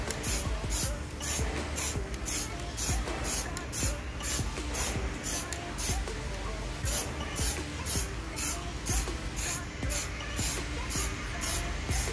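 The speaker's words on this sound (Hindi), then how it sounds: "इनके ऊपर स्प्रे कर दिया है अभी" Rubber spray paint hissing steadily from an aerosol can onto the fog lights of a Tata Nexon, a continuous close spray in short repeated bursts with no talking.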